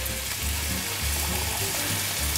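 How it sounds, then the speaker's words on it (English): A pot of water at a rolling boil for cooking noodles gives off a steady, close bubbling hiss and rumble, continuous throughout with no talking. "you want to make sure your water is boiling hot before you put in your noodles"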